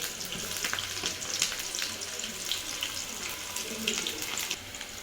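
Onions drop into hot oil and fry with a steady, close sizzle and crackle that holds throughout with slight surges.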